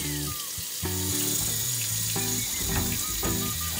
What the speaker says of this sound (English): first, we're gonna start by running her some warm water.